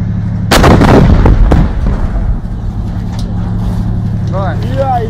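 A tank cannon fires on positions in the Donetsk war zone, giving a loud, close blast followed by a shorter second report and a rumbling tail. Steady engine drone runs underneath, and faint voices can be heard.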